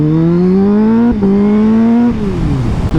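Honda Fireblade SP motorcycle engine revving close and loud, pitch climbing in smooth rising sweeps with a brief dip between gear changes, then falling away at the end.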